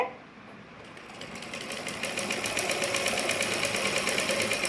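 A sewing machine stitches a pocket, starting quietly and building into a fast, steady mechanical clatter with rapid regular needle strokes, close and fairly loud.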